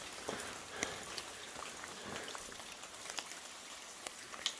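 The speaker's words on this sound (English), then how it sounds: "There is water flowing down here." Water trickles down a ravine channel along a La Palma forest hiking trail, a soft, continuous patter with scattered drip-like ticks, faint and steady, with no voices.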